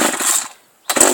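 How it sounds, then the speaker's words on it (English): A chainsaw roars loud and near in two bursts separated by a short near-silent gap. "This is the best chainsaw I got?"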